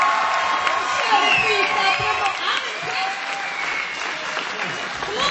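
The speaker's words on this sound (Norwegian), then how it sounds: "Litt applaus!" An audience at a hip-hop show applauds and cheers for a freestyle rapper, loud sustained clapping with scattered whoops while someone talks over it.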